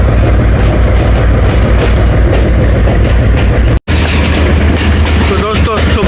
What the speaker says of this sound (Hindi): हमारी शटल ट्रेन पहुंच गई है चक शेर मोहम्मद